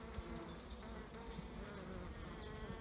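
Honeybees swarm in a dense, continuous buzz from an opened hive early in the year, frames full of pollen and a little brood, the drone steady and close throughout with no voices.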